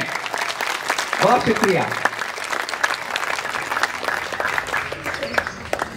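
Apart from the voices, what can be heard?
audience applause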